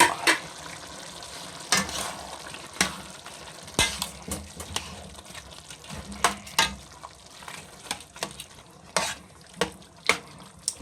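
Carrots and potatoes are stirred into ground pork frying in a pan for Filipino pork giniling, steady low sizzle under repeated sharp spatula scrapes and clacks against the pan, no voices.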